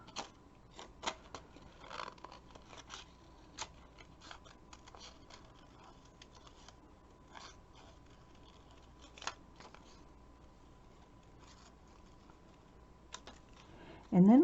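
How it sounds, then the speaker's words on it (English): Scissors snip fussy-cut card paper petals in a series of small, quiet, irregular clicks spread across the stretch, with a louder burst near the end. "So let's just get a little fussy cutting here."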